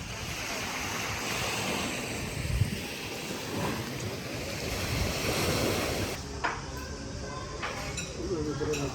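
Ocean waves wash in steadily along a Greek coast in summer, a broad continuous surf hiss with gusts of wind buffeting the microphone, and faint voices drift in now and then.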